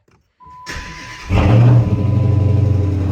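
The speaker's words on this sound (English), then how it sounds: "we're gonna hop in the vehicle and start it up. It's going to be very loud." Silence, a starter motor cranks briefly, then a cold Dodge Challenger SRT8 Hemi V8, just out of storage, catches with a loud rev and settles into a rough, pulsing idle.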